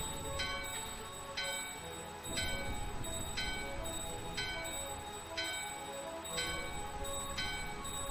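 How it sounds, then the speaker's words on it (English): Chimes ring in the Final Fantasy IX video game, struck at a steady, evenly spaced rhythm of about one per second over a constant, dense musical background. "Ring the bell."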